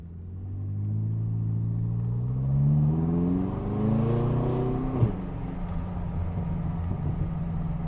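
BMW M6 engine pulling smoothly from inside the car, a low rumble with rising and falling harmonic tones as it accelerates, steady and moderately loud, with a faint whir of turbo spool barely above it.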